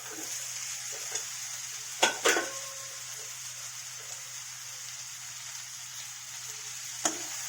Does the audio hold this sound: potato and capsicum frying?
yes